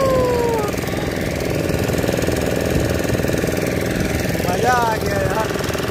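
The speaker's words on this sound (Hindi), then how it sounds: "बोट का रेसिंग चल रहा है" A racing boat's engine on Chilika Lake near Puri drones loudly and steadily throughout, close by, with a rough, rattling mechanical texture and a brief swell in pitch near the end.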